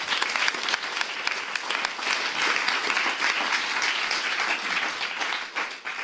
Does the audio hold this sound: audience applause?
yes